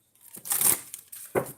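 Tarot cards shuffled by hand in two bursts, a longer riffling rustle followed by a brief crisp flutter, close and fairly quiet.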